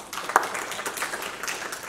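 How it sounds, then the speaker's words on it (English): An audience at a talk on dental health in domestic animals gives a short, modest round of applause, a soft, even patter of many hands with one sharper clap standing out early. "let's give her a little round of applause."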